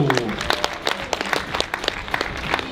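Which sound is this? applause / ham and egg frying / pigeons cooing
applause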